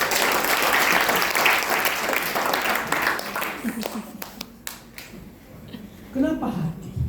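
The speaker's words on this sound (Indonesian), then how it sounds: "Beri tepuk tangan bagi Tuhan." Church congregation applauding during a sermon, a dense wash of clapping from many hands that thins out into scattered claps toward the end.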